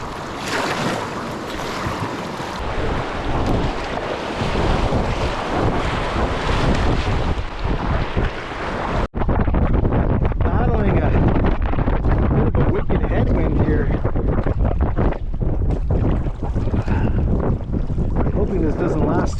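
Loud, steady rushing of river rapids roars throughout, broadband and continuous, with wind buffeting the microphone and a brief dropout midway.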